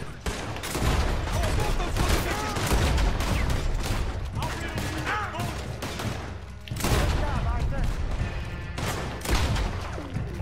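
Rapid gunfire in the Western game Red Dead Redemption 2, dense volleys of loud shots and booms with brief lulls, someone talking over the shooting.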